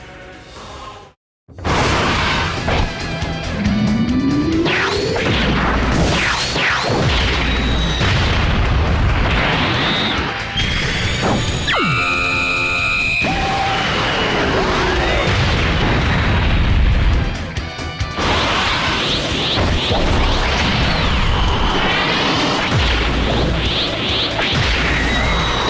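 Super Attack and Ultra Super Attack animation effects from Dragon Ball Legends, a long, loud barrage of booms, energy blasts, whooshes and crashes with rising sweeps, beginning after a brief silence and staying intense throughout.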